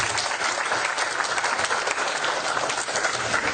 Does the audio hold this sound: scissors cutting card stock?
no